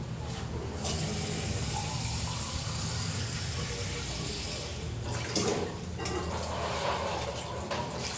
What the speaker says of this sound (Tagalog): Lalagyan natin siya ng 2 latang tubig.